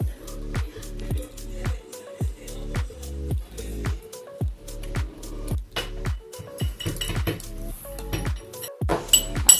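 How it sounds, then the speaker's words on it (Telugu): Cardamom pounded by hand in a home kitchen, heard as a steady series of sharp, close knocks with light metallic clinks, repeating about twice a second and growing a little busier toward the end. "సౌండ్ ఏంటి అనుకుంటున్నారా? మా చెల్లి ఇలాచి దంచుతుంది."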